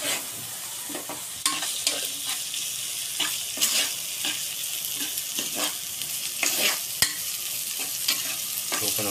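Tomatoes being sautéed in a pan for dal tadka, with a soft continuous sizzle broken by sharp scraping and clinking strokes of a spoon stirring at irregular intervals, close and moderately loud.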